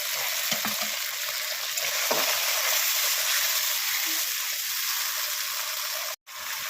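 Tomato with spice paste and chili paste fries in a pan for a beans, potato and katla fish curry, a loud steady sizzle that runs without a break and cuts out suddenly near the end.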